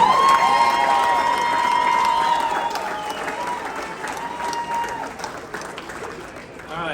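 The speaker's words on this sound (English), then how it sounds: "Huge round of applause for our Dr. Angry." An audience applauds and cheers at a 2023 United States Air Force Thunderbirds team introduction event, the clapping dense and sustained while a voice carries over it through a loudspeaker.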